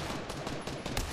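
Dense, rumbling gunfire from a multiplayer shooter game fills the whole moment, with a sharper crack near the end that fits a distant sniper rifle shot amid continuous battle noise.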